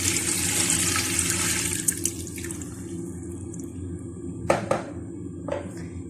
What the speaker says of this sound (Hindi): अब हमने यखनी डालनी है।